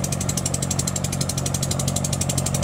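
A Kubota M5970 tractor with a Kubota D3002 diesel engine runs steadily while plowing, giving a loud, close, continuous rumble with a fast regular pulsing beat throughout.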